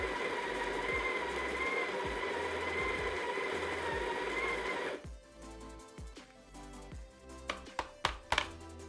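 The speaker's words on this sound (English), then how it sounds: "I found it reasonably clean grinding out a full 20 gram dose at an espresso grind setting" A Breville Smart Grinder Pro grinds a 20 gram dose of espresso coffee with a steady whirring drone for about five seconds, then stops, leaving scattered clicks, taps and knocks.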